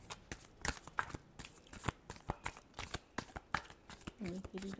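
Tarot cards are shuffled by hand for a reading, making a quick series of papery snaps and rustles at close range. The shuffling is fairly quiet, and a brief voice comes in near the end.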